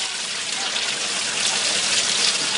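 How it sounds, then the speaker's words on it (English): Water sprays steadily from a 9/16 inch nozzle onto a blue runner of a small residential water turbine, a continuous loud hissing gush with no pauses. "There's a blue turbo runner that we're spraying water on from with the 9/16 inch nozzle that you can see."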